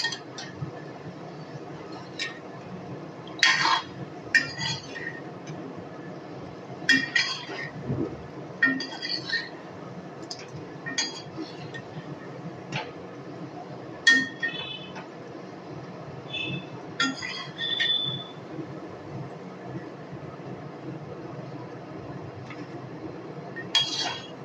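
Fried ripe mango fritters lifted out of a pan of hot oil, with scattered sharp metallic clinks and taps of a utensil against the pan over a low, steady background.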